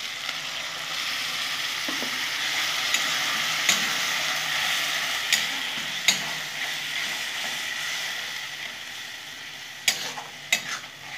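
Spice masala with Kashmiri chilli sautéing steadily in a pan, a continuous close sizzle broken by a few sharp clicks of a spoon or spatula against the pan.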